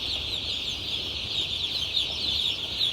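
Kaab breed chick chirping steadily at close range, a continuous stream of high, rapid peeps with no talk.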